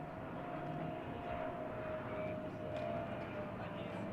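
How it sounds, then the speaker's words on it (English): A Spirit Airlines airplane passes over a baseball field, heard as a low, steady engine drone that holds across the whole stretch, moderately distant and unbroken, with no one talking over it. "Is Spirit Airlines airplane going over the"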